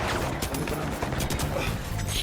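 Rapid bursts of gunfire in the video game The Finals crackle continuously, dense and loud, with faint talk mixed in.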